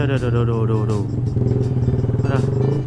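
Motorcycle engine idling and crawling in dense, congested traffic, a close, steady low throb with a brief rev, heard under a rider talking.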